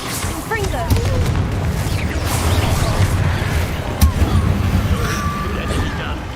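Confringo spell blasts fire in the Hogwarts Legacy video game, giving loud booms and bursts in a busy stretch of combat, with voices speaking over the noise.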